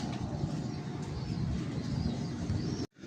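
A jeera pigeon coos on a rooftop in low, rolling, repeated pulses that continue steadily and cut off abruptly near the end.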